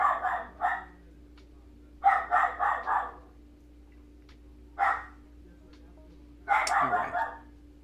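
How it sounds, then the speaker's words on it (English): A dog barks in several bursts of quick, repeated woofs separated by pauses, fairly close and loud over a faint steady hum, with no talk. "You hear my dog?"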